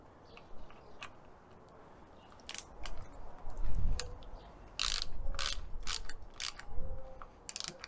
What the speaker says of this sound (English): Now let's tighten the handlebar just a little bit.